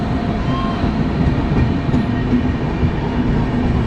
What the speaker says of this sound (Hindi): चलो, अपना ट्रेन आ गया है 11014 to Kurla terminus from Coimbatore.